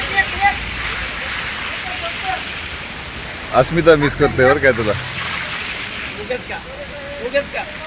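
A waterfall on an outing at Andharban, heard as a steady broadband rush beneath people talking nearby.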